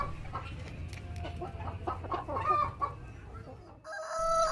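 Chicken clucking and rooster calls from farm fowl, several short broken clucks in a busy barnyard mix at moderate distance, with a brighter crow-like call near the end.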